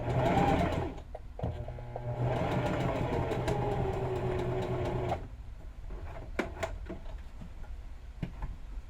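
A sewing machine stitches fabric with a loud, fast whirring run that stops, restarts, then halts, leaving scattered ticks and clicks from adjusting the presser foot, close by.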